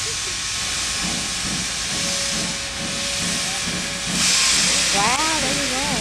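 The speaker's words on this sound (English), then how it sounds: "Wait for the train coming over and then we go." Steam hiss from a train pulling into a railway museum, a loud broadband rush that holds steady and then swells near the end as a whistle-like tone rises over it, with voices murmuring underneath.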